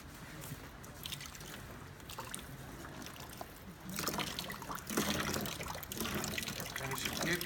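Water running into and out of a smart water tank prototype, a soft splashing trickle that swells noticeably louder halfway through, heard faintly at low level with people talking nearby.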